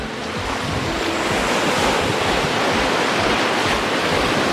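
Lake Ontario waves wash in a continuous loud surf while strong wind buffets the microphone as someone wades into the shallow lake water.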